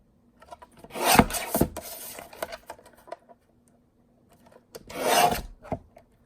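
A Tonic Studios 8.5 by 5 inch paper trimmer slices through satin cardstock, two distinct raspy sliding cuts a few seconds apart with light handling clicks between them, close and clear with no talk.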